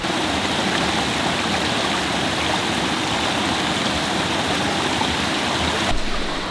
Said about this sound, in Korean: 와, 이 계곡이 좀 빡시네.